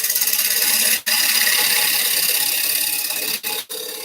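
A quarter-inch gouge cuts a wooden bowl spinning on a lathe, making a continuous loud rasping, scraping whir that breaks off briefly three times as the tool lifts from the wood.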